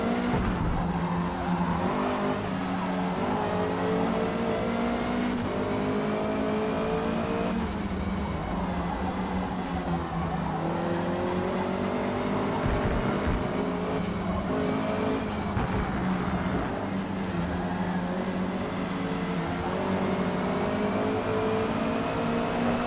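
Honda Civic Type R lapping a track in Forza Motorsport, its engine droning steadily and shifting pitch through gears over about 23 seconds, with tire squeal and other racing cars close around it.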